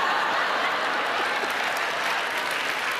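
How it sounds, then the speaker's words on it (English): Audience applauding in a hall, an even, continuous wash of clapping heard from some distance, steady throughout with a faint chuckle or murmur underneath. "they're already applauding at taking the earrings off"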